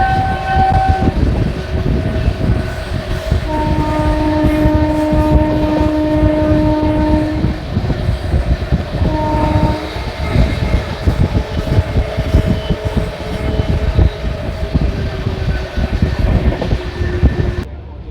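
Shri Ganganagar Delhi Intercity Express running on the line, a steady loud rumble with rapid wheel clatter, and sustained horn tones sounding several times over the noise.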